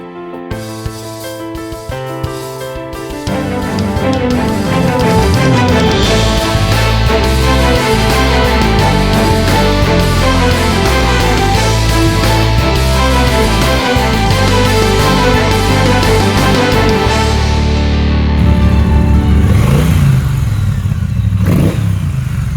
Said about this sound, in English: It is a Triumph Speedmaster 1200.